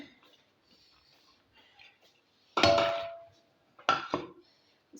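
Chicken and soaked chana dal are stirred together in a pot for shami kabab, with two sharp metallic clanks of a spoon against the pot and faint scraping in between, no talk.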